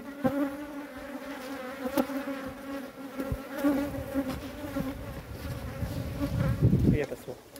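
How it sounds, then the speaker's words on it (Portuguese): Stinging bees buzz steadily up close at a honeycomb on a cliff rock, a dense droning hum that swells louder toward the end, with faint rustling underneath. "essas abelhas assim de ferrão é muito perigosa"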